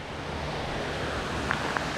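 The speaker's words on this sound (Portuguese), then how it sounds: "e a cachoeira já tá aqui" Cachoeira do Jajá waterfall near Morretes pours in a steady, loud, unbroken rush of falling water, with two faint brief higher sounds near the end.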